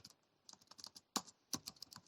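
Rapid, irregular clicks of typing on a computer keyboard during a Python pandas coding session, quiet and close, with a couple of sharper, louder key strikes partway through.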